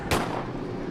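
A gunshot fired at the roof of a bus during a roadside robbery, one sharp loud crack near the start followed by a lingering reverberant tail.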